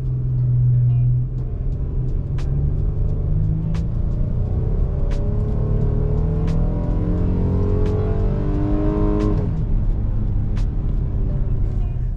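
A Ram 1500 eTorque hybrid pickup truck accelerating at full throttle, its engine rumbling and climbing steadily in pitch with a gear shift near the end, loud and close for about twelve seconds.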